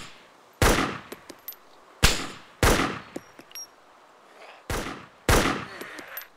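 Gunfire in the military shooter ArmA 2: Operation Arrowhead, five loud, sharp shots spaced about a second apart, each with a long echoing tail and faint metallic clinks in between.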